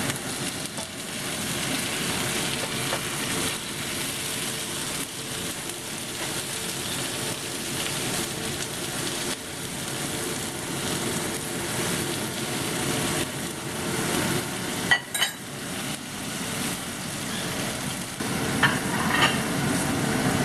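Shrimp and cauliflower frying in sa cha sauce in a pan while being stirred, a steady dense sizzle with occasional scraping stirs, close and continuous without speech.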